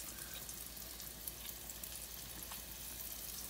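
Egg-coated whiting fish frying in a pan over medium heat gives a steady, fairly quiet, crackling sizzle that continues without pause, with no voices.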